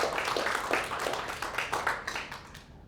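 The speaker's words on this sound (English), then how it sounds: "Give them another round of applause for me." Scattered applause from the audience at a members' meeting after a panel discussion, a cluster of close handclaps that thins out and fades over about three seconds.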